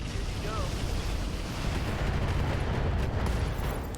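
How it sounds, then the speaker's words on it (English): Trebuchet mech lobbing missiles in the video game RogueTech, a steady rumbling barrage of launches and distant explosions rolling continuously without clear breaks, fairly loud throughout. "The Trebuchet can definitely lob some missiles in."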